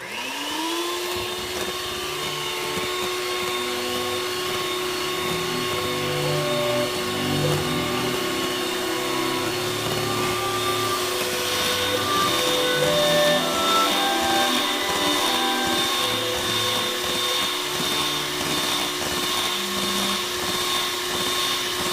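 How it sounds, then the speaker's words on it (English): An electric mixer runs on high for the whole stretch, beating sea foam candy with a constant loud motor whine that shifts slightly as the thickening mixture loads the beaters. No one speaks. "I'm going to continue beating on high for about 10 minutes until it loses its gloss"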